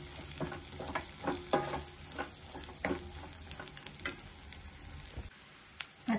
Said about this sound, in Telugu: కడిగి కరివేపాకు వేసుకొని ఒకసారి దీన్ని కూడా కలుపుకోవాలండి